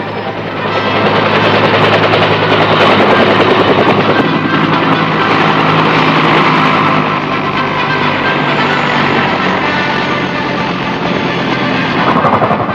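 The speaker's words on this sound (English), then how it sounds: "helicopters touch down on landing pads and bring in the precious cargo" A military helicopter settles onto a landing pad during Vietnam War supply runs, its rotor and engine roaring loud, close and steady throughout, with a slight easing partway through and no voices.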